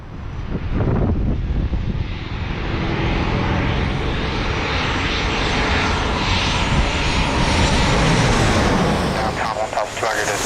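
Airliner taking off from runway 27 at San Diego Airport, a broad, steady jet roar that builds and holds loud through the clip, with wind buffeting the microphone and faint radio chatter underneath.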